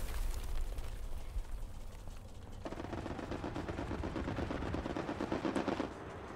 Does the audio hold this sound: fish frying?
no